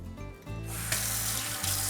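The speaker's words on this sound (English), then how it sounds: "And don't forget to wash your hands." Hands being washed with soap under a running kitchen sink tap, a steady close rush of water with rubbing, with no talking.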